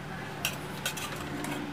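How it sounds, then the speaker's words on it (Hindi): Tandoori chicken biryani is stirred in a pot, giving a few soft clinks and scrapes of a spoon against metal at a steady pace, close and fairly quiet, with no talking. "थोड़ा सा हम मिक्स कर देंगे ताकि जो ऑयल और कलर है वो मिक्स हो जाए अच्छे से।"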